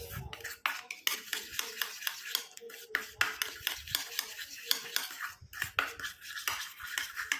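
A spoon stirs powder into liquid in a small container for a homemade skin-whitening remedy, giving rapid, rhythmic clinks and scrapes against the sides, close and fairly quiet, with no voices.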